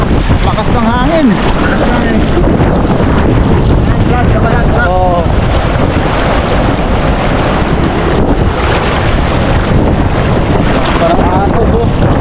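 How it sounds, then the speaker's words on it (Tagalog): Strong wind buffets a fishing boat at sea, roaring continuously and loudly across the microphone alongside waves and engine rumble, with someone speaking intermittently over it. "Makas ng hangin."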